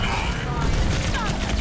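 Grenade blasts and busy combat din from an Overwatch match, a dense continuous rumble of booms and gunfire with player voices mixed in.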